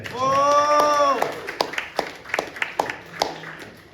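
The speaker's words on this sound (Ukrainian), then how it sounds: "Оплески!" A voice cries out briefly, then a handful of scattered claps follow, sparse and uneven, fading out.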